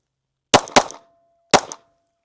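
Handgun shots fired at a target on an outdoor shooting range during a concealed-carry skills drill: two quick sharp cracks, then a third a moment later, loud and close with no talk.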